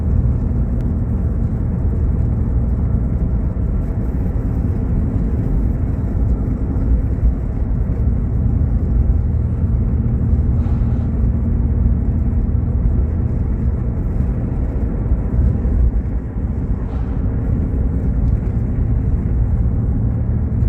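A car drives on the road, heard from inside as a steady, loud low rumble of engine and tyre noise that holds without a break for about twenty seconds.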